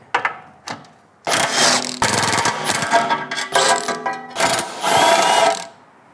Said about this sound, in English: Remove the four 12mm bolts that hold in the skid plate.